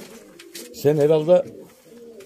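Breeding pigeons coo in a loud, close burst of about half a second, set between softer stretches of someone talking.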